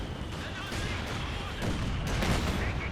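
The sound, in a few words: gunfire in the video game Company of Heroes 2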